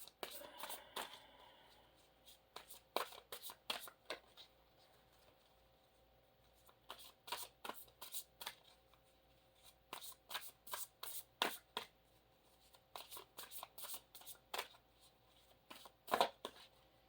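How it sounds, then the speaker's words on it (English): Quiet close-up shuffling of a Mediumship Training card deck, repeated crisp riffling bursts in irregular clusters with short pauses between them, and faint talk in places. "I was thinking as I was shuffling"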